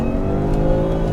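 A Shelby F-150 Super Snake pickup in sports mode delivers a loud, steady engine roar under throttle from inside the cab, a continuous deep drone with no voices.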